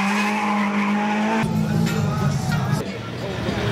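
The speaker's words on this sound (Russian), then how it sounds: "смотри, хорошо дрифтует" A drift car slides around a track at a season-closing drift event, its tires squealing in a loud sustained screech over a droning engine, with faint crowd chatter in the background.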